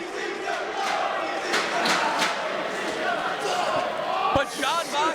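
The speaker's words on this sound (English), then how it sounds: "This crowd eating it up with a spoon." A wrestling crowd roaring steadily at a match after a piledriver through a table, a dense cheering swell with thuds from the ring and a commentator talking over it.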